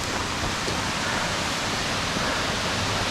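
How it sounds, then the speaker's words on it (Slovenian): Gregorčič waterfall in Slovenia pours steadily, a dense continuous roar of falling water heard up close with no break and no voices. "Evo, to je Gregorčičev slap."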